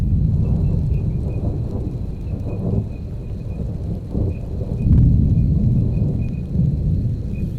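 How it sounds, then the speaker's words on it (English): Deep rolling thunder rumbles continuously from an approaching thunderstorm in open country, with swelling low booms over a steady bed of rain and wind, heard alone. "between claps of thunder"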